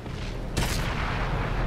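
A T28 tank gun fires in the World of Tanks video game: a single loud boom about halfway in, followed by a rumbling decay over steady background noise.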